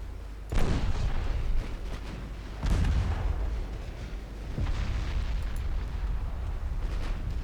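Italian battleship Doria firing high-explosive shells in Ultimate Admiral Dreadnoughts, several heavy booming gun salvos at irregular intervals over a continuous low rumble.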